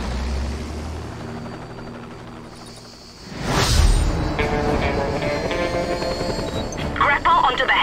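A helicopter in the video game Just Cause 2 swells in with a whooshing rush and settles into a steady, loud rotor drone, with game sound effects layered over it.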